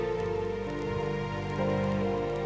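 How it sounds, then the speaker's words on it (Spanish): Rain falling steadily as the first drops of a downpour arrive, a dense continuous patter mixed with a sustained tonal music bed throughout. "comenzaron a caer las primeras gotas de aquel diluvio que duraría 40 días"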